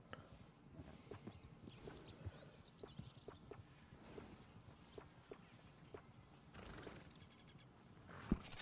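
A horse in the Red Dead Redemption 2 video game snorts and shifts, with soft clip-clopping hoof steps and breathy noises over steady wind-like ambience, fairly quiet and continuous, with a louder snort near the end.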